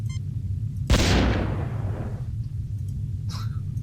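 A single sharp gunshot-like blast from a weapon in the 1992 Interplay DOS game Star Trek 25th Anniversary, a sudden loud burst that decays over about a second, followed later by a brief electronic tone.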